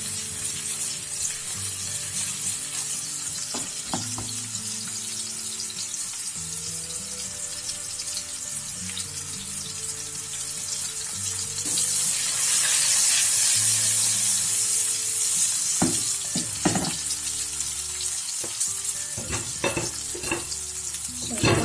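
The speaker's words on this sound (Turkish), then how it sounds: "İyice yumuşatmadan hafifçe soteleyelim." Cretan zucchini with dill sautés lightly in a pan, a close, steady sizzle and frying hiss with scraping stirs and occasional clinks throughout, and no voices.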